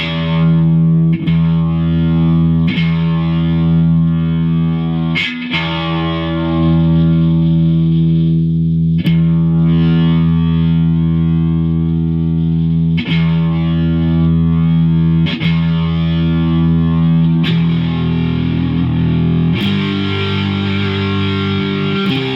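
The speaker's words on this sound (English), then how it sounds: "Very nice if you want a small distortion box." Sustained electric guitar chords through a small distortion pedal, heavy distortion, loud and buzzing, struck repeatedly every couple of seconds with ringing sustain between hits.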